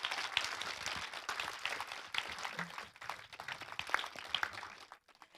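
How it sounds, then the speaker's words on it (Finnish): Steady applause from a crowd at a public event, broad clattering claps filling the room for several seconds, then tapering off near the end. "Annetaan isot aplodit."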